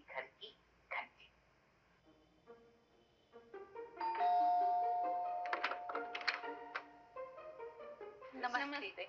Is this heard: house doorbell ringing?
yes